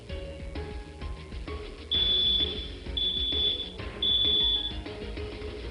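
A household smoke detector sounds its alarm in three loud, piercing high-pitched beeps, each lasting about a second, separated by short gaps over steady background noise.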